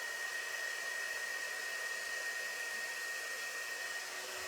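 A hair dryer blows on freshly painted autumn-themed craft lettering, giving a steady, close, even whooshing roar that holds without pause for the whole stretch, with no voices.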